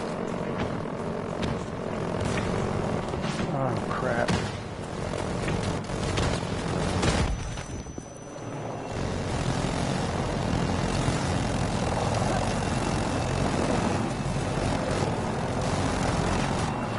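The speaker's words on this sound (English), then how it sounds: "that dopey helicopter spotting me" A helicopter in a PS4 video game drones with a continuous rotor and engine roar throughout, loud and steady, with a brief dip partway through.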